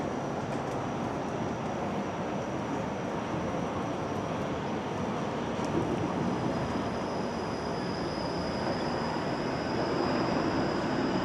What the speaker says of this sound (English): And there's the 505 Dundas streetcar.